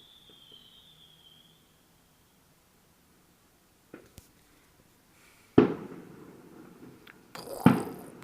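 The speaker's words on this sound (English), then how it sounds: "You can probably hear them now. You've got the whistlers." Fireworks over Portsmouth with whistlers: a faint rising whistle early on, then scattered distant pops and two louder booming bursts with crackling tails.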